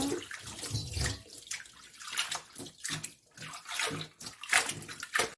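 Radish being washed by hand in water, continuous sloshing and splashing in irregular bursts with running water from a tap, close and fairly loud, no talking.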